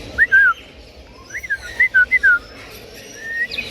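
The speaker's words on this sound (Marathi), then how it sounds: "पोपटा आवाज बघा कसे काढतात एकदम खतरनाक वेगवेगळा." A parrot gives several short whistled calls, rising and falling squawky notes in quick bursts over a faint background hum, with no one talking.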